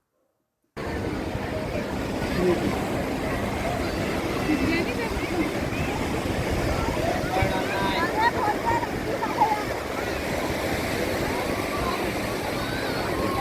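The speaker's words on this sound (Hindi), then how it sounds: "उछाल मारती लहरें जब हमारे पैरों को टच करती तो बहुत अच्छा लग रहा था।" Ocean waves surge and wash onto a beach in Mumbai, a steady, broad roar of surf that runs on without a break.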